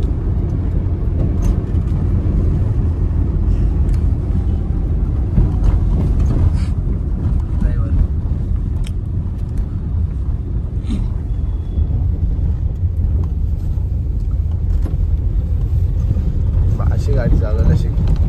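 A car is driven along a road, its low engine and road rumble steady throughout, with occasional creaks and knocks from the cabin and voices talking over it.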